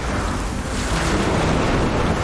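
Lightning attack effect from the game Soulstone Survivors, a dense crackling thunderous rumble that stays loud and sustained throughout, with no speech.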